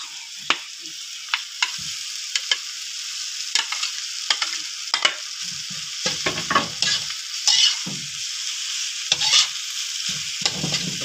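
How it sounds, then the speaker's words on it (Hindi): Potatoes for samosa filling fry in a pan while being stirred, giving a soft continuous sizzle broken by repeated scraping stirs at irregular intervals, close and clear with no talking. "मैं इसको भून लूँ फिर आपको दिखाता हूँ।"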